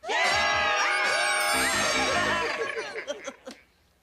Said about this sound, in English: Good screaming, everybody.